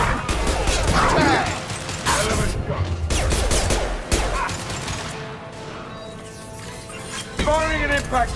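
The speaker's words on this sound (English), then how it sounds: "Firing an impact shot!" Impact shot weapon fire in the Mass Effect 2 video game, heavy crashing blasts and gunfire bursts mixed with frequent in-game voices, loud and close through most of the stretch.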